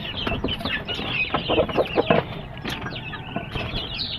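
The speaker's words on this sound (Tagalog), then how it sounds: "Dito po yung aking pasisiw guys" Chickens and young chicks cluck and peep steadily in a backyard, with several close, overlapping calls and soft chirps in an unbroken run.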